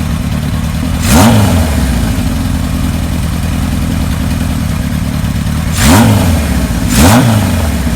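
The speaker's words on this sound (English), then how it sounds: "Bike sounds nice. Got a Kirker header on it." A 1978 Kawasaki KZ1000 LTD motorcycle with a Kirker header idles loudly and steadily, with three quick throttle blips rising and falling over the idle.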